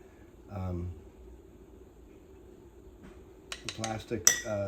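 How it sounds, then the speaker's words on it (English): A wooden or plastic spoon knocks and scrapes against a container while stirring sourdough starter during feeding, with a brief clink early and a flurry of clattering taps toward the end. A person talks quietly in between. "I'm going to take this and I'm going to stir it and mix it up really well"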